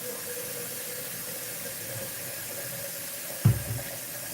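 Tap water runs into a blender jar used for making homemade peanut butter, a steady rushing stream that continues throughout, with a brief low thump near the end.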